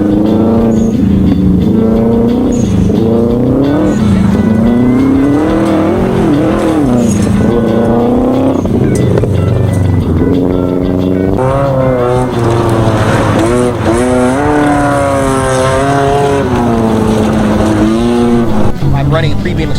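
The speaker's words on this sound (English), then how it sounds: "This car has to be best sounding of the day." A rallycross race car at a 2019 Lone Star Rallycross event revs hard and its engine pitch climbs and falls in repeated surges, with tires squealing, loud and close, while a commentator talks over it.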